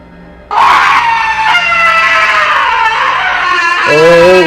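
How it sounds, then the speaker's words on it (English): A long, loud, piercing scream from the bushes, sustained and wavering for several seconds, then breaking into a shaky cry at the end, close and alone. "Finally, a third scream came just as suddenly, but this time, it was on our side of the river"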